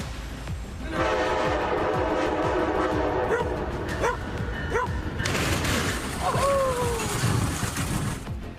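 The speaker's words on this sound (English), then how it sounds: "you can hear that Brightline train honking before slamming into the robot" A Brightline high-speed train horn blares in several long blasts over rumbling rail noise, with a dog barking and a sharp crash-like burst partway through as the train strikes a food delivery robot.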